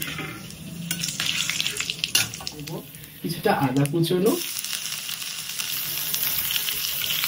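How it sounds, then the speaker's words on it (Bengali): Whole spices of cinnamon, clove, cardamom and dried chilli fry in oil for a tempering, a soft sizzle with occasional stirring clatter running under a voice talking nearby. "ফোড়নটা একটু হালকা ভাজা ভাজা হবে।"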